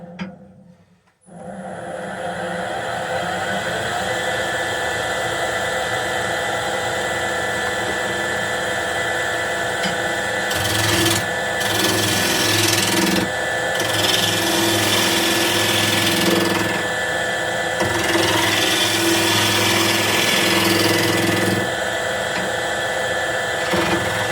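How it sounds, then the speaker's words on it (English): Olive wood spins on a lathe under a regular bowl gouge, a steady loud whirring hum with a gritty cutting hiss that swells in places, close and continuous, with no speech. "Let's turn it with the regular bowl gouge."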